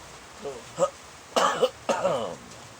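Several short coughs and throat-clearing bursts close up, separated by brief pauses, fairly quiet overall.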